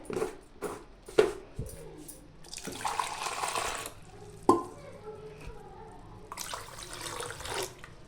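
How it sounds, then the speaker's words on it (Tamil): Water is poured from a vessel into freshly squeezed sweet lime juice in two short splashing streams, with soft clinks and knocks of kitchenware in between. "கொஞ்சம் தண்ணி ஊற்றிக்கலாம்"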